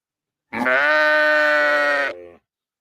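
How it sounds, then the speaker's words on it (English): A single loud sheep bleat from a video game, one sustained wavering cry of about a second and a half that trails off into a brief rough tail, heard alone against silence. "Oh, a sheep."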